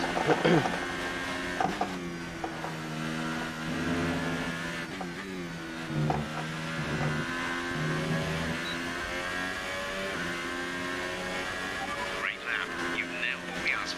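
A Formula 1 car engine in the game F1 2018, driven as a McLaren at the Austrian Grand Prix, whines steadily with shifting revs and gear changes, with a voice talking over it.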